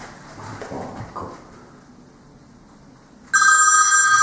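A telephone rings inside a house, a sudden loud, shrill bell starting after about three seconds of quiet rustling and faint movement, continuing steadily to the end.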